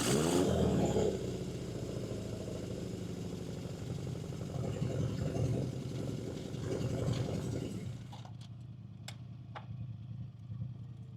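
1978 Honda CB750 Four café racer with a vintage four-cylinder engine, a steady rumble that rises and falls with revs, then drops to a quieter idle with a few sharp clicks.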